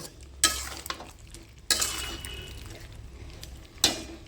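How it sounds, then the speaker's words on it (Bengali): Potatoes being stir-fried in yogurt masala for aloo dum, with a few sharp scraping stirs over a soft, steady sizzle close by. "আলুটা দিয়ে খুব ভালো করে আরও নাড়াচাড়া করে ভালো করে কষে নেব"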